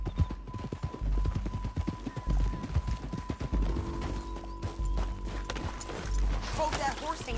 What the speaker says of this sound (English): Hope that horse ain't lame.